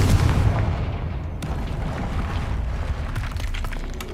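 Confringo explosion spell cast in the video game Hogwarts Legacy, a booming, rumbling blast with a dense low roar that sustains loudly throughout, with a sharp crack partway through.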